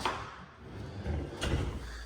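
An IKEA soft-close pantry drawer in a kitchen slides shut with quiet, muffled knocks, a soft thud near the start and another toward the end, faint and with no voices over it.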